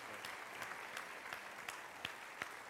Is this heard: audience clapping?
yes